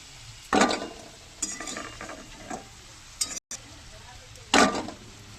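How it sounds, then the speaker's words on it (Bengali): Potatoes frying in hot oil in a pan, with a steady background sizzle broken by several brisk bursts of stirring and scraping against the pan. "এবার দিয়ে দেবো আলুগুলো লাল করে ভেজে নেব"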